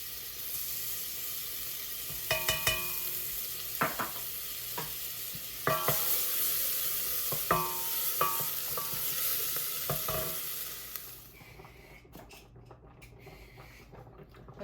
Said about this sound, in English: We're going to start by heating up the butter, 2 tablespoons of butter, and 2 teaspoons of garlic